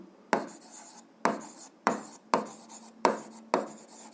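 Pen strokes on paper while working an algebra exercise: six short scratchy bursts in a steady rhythm, each starting sharply and trailing off, close and fairly quiet with no talk.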